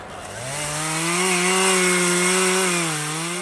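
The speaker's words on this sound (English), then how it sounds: "This is chainsaw joinery, not quite cabinet making" A chainsaw roars steadily through wood, its engine pitch rising then holding loud and close before easing slightly at the end.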